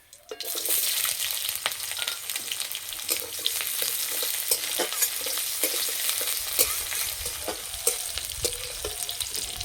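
Onions hiss and crackle in hot mustard oil in a karahi, a dense, steady sizzle close by, punctuated by regular scraping strokes of a spatula as they are stirred.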